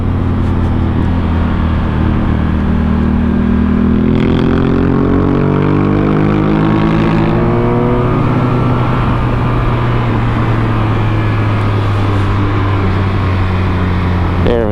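BMW R1200 RT-P police motorcycle riding through a bowl, its engine loud and close, revs climbing and falling in smooth sweeps before settling into a steady drone.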